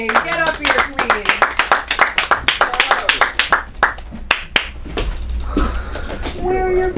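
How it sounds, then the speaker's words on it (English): A comedy show audience at a school of comedy claps after being asked to welcome a performer. Scattered, rhythmic hand claps build and then thin out, with people talking over them. "please clap it up for Anye!"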